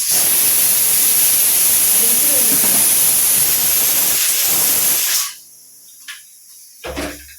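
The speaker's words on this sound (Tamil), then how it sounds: "இப்போ இது விசில் வந்துருச்சு." A loud, steady steam hiss from a pressure cooker whistle venting while cooking ven pongal fills the first five seconds, then cuts off abruptly into near silence with a few faint clicks.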